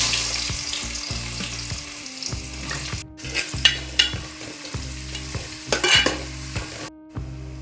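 Onions sizzling in hot coconut oil for a chicken sukka, frying steadily with repeated stirring scrapes and clinks of a spoon in the pan, close and fairly loud, with no voices.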